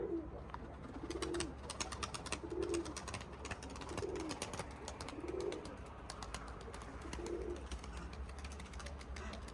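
Tumbler pigeons cooing on a rooftop, repeated soft low coos at a steady rhythm, moderately near, with faint chirps and outdoor background noise around them.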